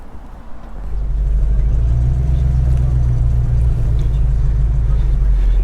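A 1961 Ford Ranchero's engine idles with a mild, throaty low rumble, starting softer and then settling into a steady, loud, close drone.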